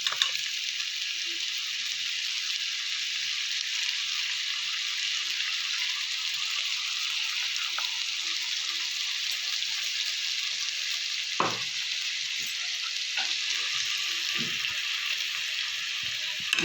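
A paste of tomato, ginger and green chilli fries in a pan for dhokar dalna, making a continuous loud, hissing sizzle with a few soft clinks and stirring knocks throughout.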